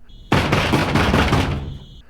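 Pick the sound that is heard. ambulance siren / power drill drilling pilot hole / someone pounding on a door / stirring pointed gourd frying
someone pounding on a door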